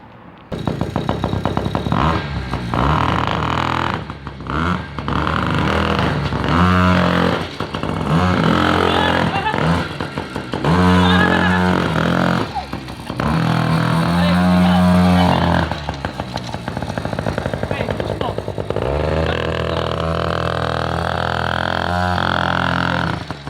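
A small engine revs hard and steadily with too much throttle, its loud buzzing roar rising and falling in repeated bursts, close by, with faint talk underneath.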